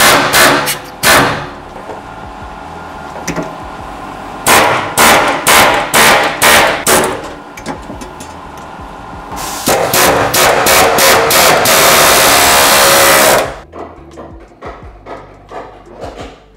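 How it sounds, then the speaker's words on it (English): Pneumatic air chisel stripping bulkhead strips from a van's metal panels during a conversion, loud sharp hammering in short bursts and a long sustained rattling run, close and harsh, ending in scattered clatter. "Air chisel. That's the word I'm looking for. With the air chisel."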